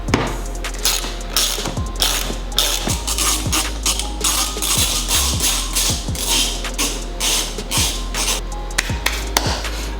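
Metal clicks and ratcheting from an Allen key backing regular bolts out of a motorcycle sissy bar holding Pelican bags, a steady run of close, sharp ticks and turns with a few louder knocks.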